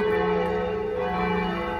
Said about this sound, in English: the church bells are definitely there because it's very loud now